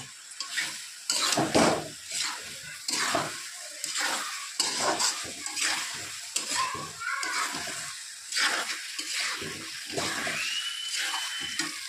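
Pieces of koi fish hit hot spiced oil in a pan and fry with crackling sizzles, punctuated by rhythmic scraping stirs, close and bright, while a person speaks over the cooking.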